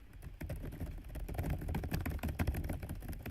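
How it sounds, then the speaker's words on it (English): Quiet office where someone types at a computer keyboard, a faint, steady patter of keystrokes with no voices. "that sound, like him typing"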